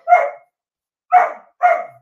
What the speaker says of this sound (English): Hold on, I'm just going to get my dog to stop barking.